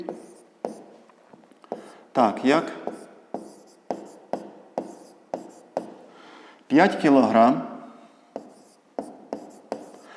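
Pen or pencil scratching across paper while a math solution is written out by hand, a steady run of short, crisp taps and strokes recurring every half second or so, with a person talking over it in two stretches.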